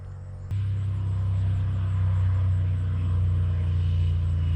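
A Polaris RZR engine holds a steady, loud droning rumble at constant RPM, starting abruptly after a brief quieter moment and continuing evenly throughout, with no talking.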